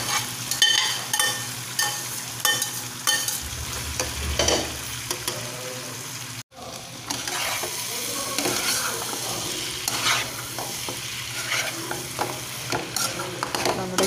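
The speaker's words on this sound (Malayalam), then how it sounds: "ഇനി നമുക്കിതിലോട്ട് നമ്മൾ വേവിച്ച് വെച്ച് ഒട്ടക ഇറച്ചി ചേർത്ത് കൊടുക്കാം" Cooked camel meat is stirred into a masala in a pan for camel gravy, a steady sizzle with repeated scraping and clinking strokes of the utensil, continuous apart from one brief break midway.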